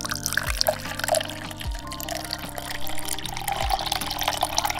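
Water is poured steadily into a vessel, about 300 ml, to brew a bag of Japanese green tea, a continuous close splashing fill with no talking.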